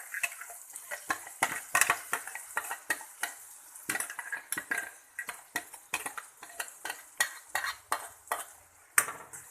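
Onions and masala paste fry in a pan, with a spoon stirring and scraping in quick, repeated clinks and scrapes over a faint sizzle, close and with no talking.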